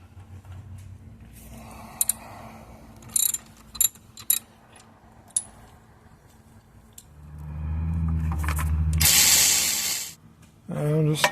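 A 5/8 ratchet wrench loosens bolts on the 4-wheel drive shifter bracket of a 2011 Jeep Wrangler, giving scattered sharp clicks and clanks, then a longer whirring burst and a hiss near the end.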